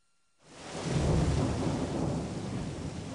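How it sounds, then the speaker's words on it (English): Silence breaks into a deep rolling rumble of thunder at the onset of a thunderstorm, blending with a heavy, steady roar of pouring rain. "The onset of a thunderstorm almost always includes strong gusts of wind and heavy rain."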